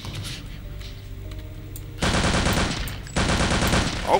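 Rapid automatic gunfire in a video game, two loud sustained bursts of dense shots close up after a quieter stretch of background game noise.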